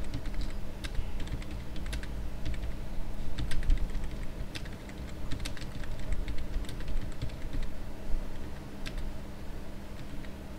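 Typing on a computer keyboard while entering text in Microsoft Word: steady, close clicking keystrokes in irregular bursts over a low background hum, with no voices.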